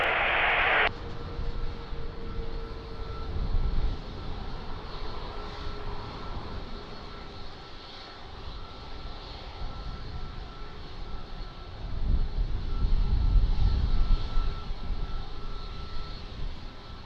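A Ryanair airliner lands at Lisbon Airport, a steady distant roar of engines and rushing air rising in strength toward the end, with no speech.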